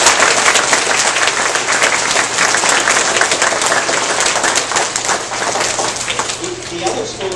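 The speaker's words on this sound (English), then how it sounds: "go ahead and clap" Sustained applause from a large elementary school assembly audience, steady dense clapping filling the whole stretch with a faint murmur of voices underneath.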